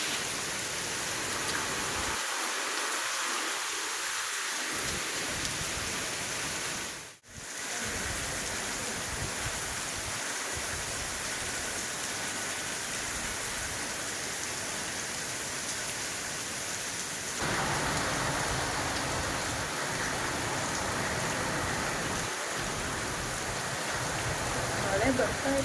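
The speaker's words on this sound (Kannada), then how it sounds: "ಬನ್ನಿ ತೋರಿಸ್ತೀನಿ ಮಳೆ ಹೆಂಗೆ ಸಕ್ಕತ್ತಾಗಿ ಬರ್ತಿದೆ" Heavy rain pours down in Madikeri, Coorg, during a sudden shower amid sunshine, a dense, continuous close hiss throughout with a brief voice early on.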